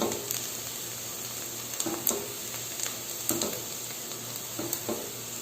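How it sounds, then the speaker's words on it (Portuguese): Rice and onion being stirred nonstop in a pan for risotto, a steady low sizzle with periodic scraping strokes of the spoon roughly every second and a half, close and moderately loud, no voices. "mexendo sem parar nessa etapa fundamental para que a cebola não queime"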